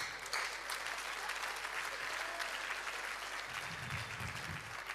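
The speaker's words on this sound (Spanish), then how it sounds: "démosle un aplauso aquí a mi amigo" A church congregation claps warmly during a Spanish-language Pentecostal service, a fairly distant, continuous patter of hands in a reverberant room, with a low rumble joining near the end.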